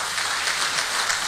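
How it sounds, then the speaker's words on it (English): Audience applause for a speaker at an economic summit, a brief wash of steady, moderately loud clapping with no voices. "Let's give him a big round of applause."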